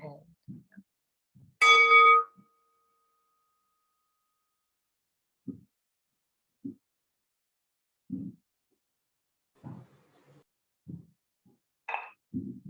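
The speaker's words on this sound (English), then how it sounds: "I'll ring my bell so we can close." A single bell is rung once to close a training session, ringing with a clear bright tone that fades over about half a second in a quiet room, followed by faint, scattered low sounds.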